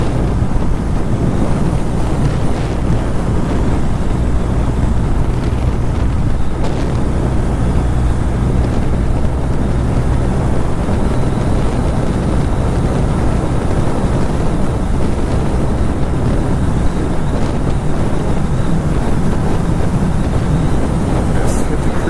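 Strong gusts buffet the microphone outdoors, a constant loud low roar with heavy broadband rumble that never lets up across the whole stretch, completely masking any other sound.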